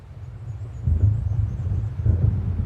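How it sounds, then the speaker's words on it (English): Thunder of an approaching storm in the Alan Wake video game: low, rolling rumbles swell twice over a deep continuous drone, heavy and close. "It seems there's a storm coming."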